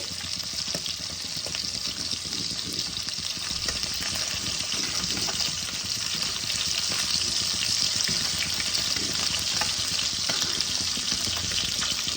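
Local river fish frying in a pan of hot oil, giving a steady, close, unbroken sizzle with soft bubbling and occasional faint clinks, and no voices.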